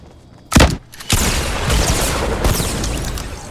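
Fortnite Battle Royale gunfire and rocket shots: a sharp close blast, a brief pause, then a sustained roaring barrage of rapid shots and explosions filling the rest of the moment.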